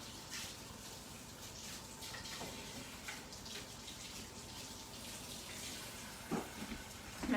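Water runs from a kitchen tap in a steady, faint hiss as it is left on to warm up, with a few light clatters near the end.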